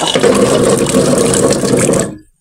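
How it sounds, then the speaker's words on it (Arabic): Freshly picked lemons rinsed under a loud, steady stream of running water for pickling, the close splashing continuous for about two seconds before it cuts off abruptly. "بعد ما قطفناه بالشكل دوت هنغسله بقى غسله حلوه"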